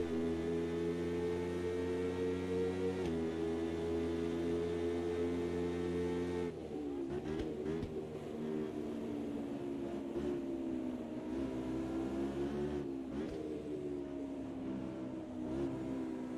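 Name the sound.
race cars driving at Silverstone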